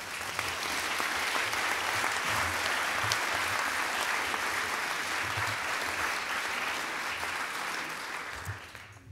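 Sustained, full applause from an audience at a baton-passing ceremony, dense clapping holding steady for several seconds before tapering at the end, with no talk over it.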